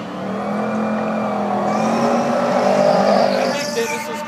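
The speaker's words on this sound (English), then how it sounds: "That's his first real burnout all night." A Ford Lightning pickup truck launches in a drag race against a Ferrari 458, its engine revving loudly under a sustained high tire squeal from a burnout, steady and close for several seconds.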